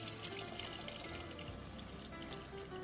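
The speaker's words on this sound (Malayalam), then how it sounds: "പുളിവെള്ളം ഒഴിക്കാം." Tamarind water is poured into a simmering ayala (mackerel) fish curry, making a soft, continuous splashing trickle that stays quiet and steady throughout.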